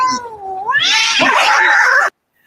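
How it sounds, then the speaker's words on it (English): A cat yowls in one loud, drawn-out, rising meow that swells into a harsh caterwaul, then cuts off abruptly into silence. "It sounds like That's a a cat."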